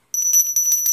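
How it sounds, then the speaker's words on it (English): A small bell rings repeatedly with a bright, sustained high tone, struck in quick uneven strokes for about a second after a brief silence, close and clear with no talk. "I'm supposed to ring the bell when I make a pull."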